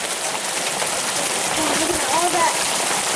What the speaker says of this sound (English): Like every time I go outside, it rains harder.